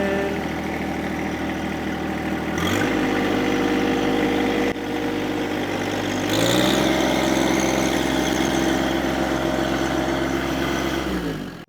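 A John Deere 2025r compact tractor engine works while stuck in mud, holding a steady drone that steps up in pitch twice as the throttle rises and stays loud and continuous throughout, with no one speaking.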